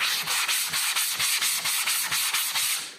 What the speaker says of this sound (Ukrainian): Груба, груба наждачка, так, щоб взяв і швидко пошліфував